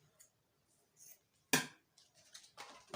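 Scissors cut through elastic in a quiet room: a few soft snips and one sharp, close cut.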